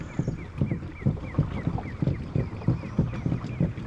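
Kayak paddle strokes dipping into a lake at a steady rhythm, roughly every half second, each a soft close splash and swirl of water, with no talk over them.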